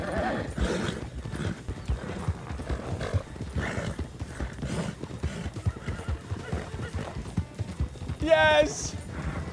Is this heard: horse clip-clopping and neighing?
yes